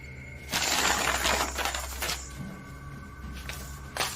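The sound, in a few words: pencils falling and rattling on floor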